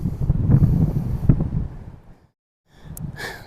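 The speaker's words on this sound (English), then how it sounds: "it might get a little windy out here" Wind by the water at a beach buffets the microphone in low rumbling gusts, drops to near silence briefly, then a softer gust and a faint high chirp return.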